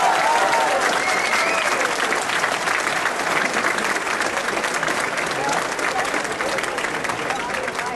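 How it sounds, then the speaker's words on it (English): A large crowd of several hundred people at a 2012 scholarship awards event claps steadily, a dense, loud, continuous wash of applause lasting throughout, with a voice faintly audible under it. "Give yourselves a round of applause."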